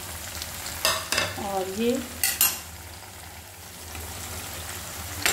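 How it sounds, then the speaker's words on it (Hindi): Masala spices for biryani fry in a pan with a steady low sizzle, broken by a few clinks and scrapes of a stirring spoon near the start, while someone briefly speaks. "तो थोड़ी देर इसको भून के इसका कच्चापन निकाल देंगे। फिर उसमें हम इसमें मसाले ऐड करेंगे।"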